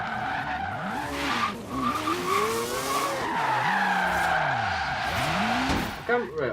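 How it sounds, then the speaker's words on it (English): Tires squeal and skid continuously as a car drifts sideways in Forza Horizon 3 online, sweeping pitch glides rising and falling over engine drone, loud and close, with voices talking over it. "So when your car is drifting, you'll move the wheels."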